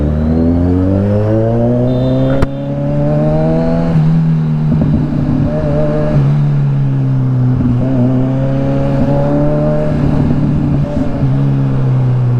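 A Kawasaki Ninja 1000 SX with its mid-pipe removed revs loudly up close, its engine note climbing and falling through repeated throttle blips, with one sharp click early on and no talk.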